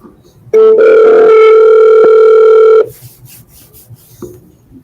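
A loud, steady telephone tone drones for about two seconds on a phone line, then stops abruptly, leaving faint background noise.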